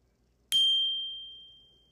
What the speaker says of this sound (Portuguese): E o sino das notificações,